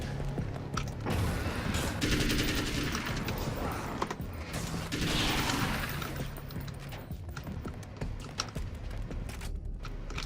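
Grenade blasts and chaotic combat noise from the game Alan Wake's American Nightmare, dense bursts and crashes piling up over about ten seconds with a loud, continuous wash and no clear pauses.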